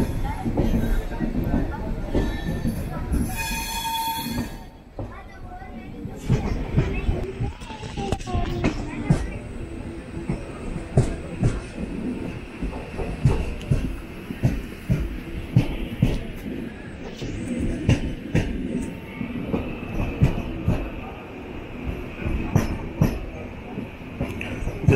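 Antyodaya Express 20691 train running in the unreserved section after departing Dindigul on the Trichy to Nagercoil route, with a steady rumble and rhythmic wheel clatter of a coach at low speed, plus occasional voices aboard.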